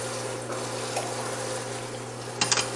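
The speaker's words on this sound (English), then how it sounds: "I was pouring in the water" Water pours steadily into a cooking pot on a stove, making a continuous close rushing splash that ends with a few brief gurgles.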